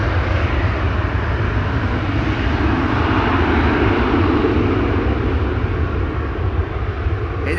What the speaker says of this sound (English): This is KLM flight 515 to Dar es Salaam, also coming this way. 787-10 Dreamliner.